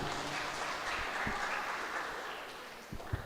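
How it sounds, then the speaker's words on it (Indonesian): Applause from a church congregation at a Christmas service, a steady wash of clapping filling the room for about three seconds before tapering, with a few louder claps near the end. "tepuk tangan"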